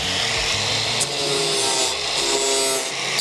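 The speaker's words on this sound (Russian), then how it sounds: "сейчас зачищаю края." Abrasive grinding along the cut edges of a PVC boat cover panel, a harsh continuous rasping scrape with steady intensity and slight surges, loud and close, with no talk.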